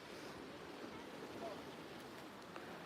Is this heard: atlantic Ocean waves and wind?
yes